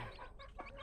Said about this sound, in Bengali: সো ওগুলো সব দেশি মুরগি